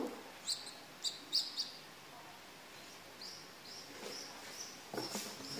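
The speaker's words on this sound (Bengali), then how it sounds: "এই যে ছোট্ট ছোট্ট 2টা কবুতরের বাচ্চা" Two tiny pigeon chicks give thin, high chirps, a few quick peeps, then a run of softer calls, close and quiet in an otherwise still room.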